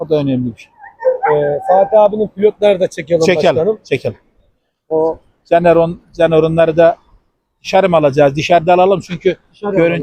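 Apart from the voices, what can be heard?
None of the usual background noises is heard.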